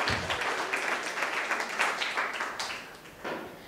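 Audience applause welcoming an honoured guest at a school yoga and meditation event, steady dense clapping from a crowd at moderate distance, fading slightly near the end.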